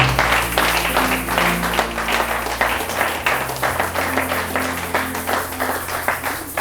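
A church congregation applauds the Lord during a French-language worship service, a steady, dense wash of many hands clapping close by, with a low sustained tone underneath and no talk.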